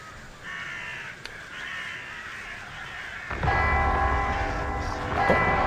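Crows cawing loudly in the video game Heartworm, harsh repeated calls layered over a droning ambient background that swells louder in the second half.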